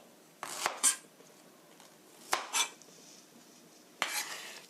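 A knife cuts through chicken for soup on a board, producing three separate bursts of crisp slicing and board taps, each pair of strokes close together and followed by quiet pauses, near and fairly soft with no talk.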